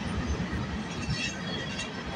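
A CN freight train carrying scrap metal cars rolls past at Bronte, a steady broad rumble of wheels and cars, close and continuous, with no voices.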